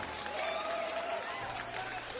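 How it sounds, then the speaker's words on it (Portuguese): Loud, continuous applause plays on a Brazilian radio news show in Rio Grande do Norte, dense and steady throughout, with a faint tone running beneath it. "Aplausos para os nossos queridos ouvintes."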